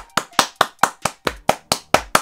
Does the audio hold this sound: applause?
yes